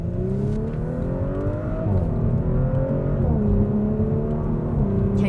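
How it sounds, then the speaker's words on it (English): A 2023 Audi S4 engine with a sound-enhancing exhaust, revving in steady rising and falling sweeps while driving, loud and close with a continuous engine drone. "Can you hear that sound enhancing exhaust too?"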